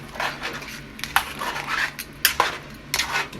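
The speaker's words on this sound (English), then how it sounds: "I'm going to stir it really good before I add any more" Okra sauce stirred in a pot, giving a quick series of light metallic scrapes and clinks from a utensil against the pot's side, irregular and close, with no talking.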